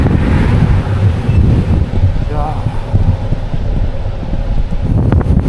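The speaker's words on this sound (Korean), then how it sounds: "바람이 심상치가 않네" Strong gusting wind roars across the microphone while cycling along a fire-scarred Canadian road in autumn, a loud continuous rumble with buffeting surges and brief voice sounds beneath it.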